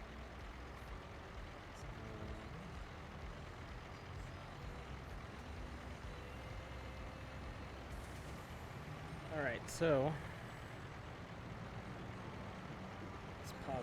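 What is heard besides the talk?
truck engine noise from video game American Truck Simulator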